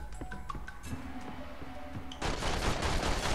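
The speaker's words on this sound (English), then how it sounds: "How is he shooting me like through the corner?" Gunfire in the PS2 game The Matrix: Path of Neo: quieter game tones and clicks give way midway to a loud, dense, rapid burst of shots that carries on to the end.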